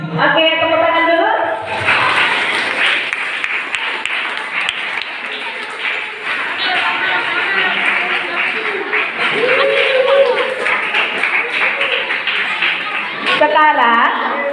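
An audience of children at a talk on gadgets and mental health claps together in a long, dense burst. The clapping is loud and steady and starts right after a voice speaks briefly. Light voices and laughter come through underneath.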